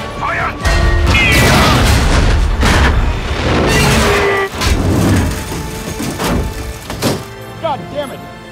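Sherman tank cannon fire during a World War II tank battle against a Tiger tank, heavy booms and thuds under constant loud shouting and engine rumble, with crashing impacts scattered through the scene.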